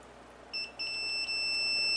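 Continuity beep from a multimeter during an electric window repair on a BMW Z4, a steady electronic tone that starts after a brief false start and holds on, clear over a quiet room.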